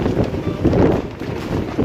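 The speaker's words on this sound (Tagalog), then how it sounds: "lumalakas na po ang hangin" Strong wind gusting at a pigeon loft, a loud rough buffeting roar hitting the microphone in uneven bursts for a couple of seconds.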